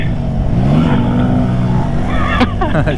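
A Benelli TNT 135 small motorcycle engine running close in second gear, a loud buzzing drone with a shifting pitch and a sharp rise near the end, as someone speaks over it.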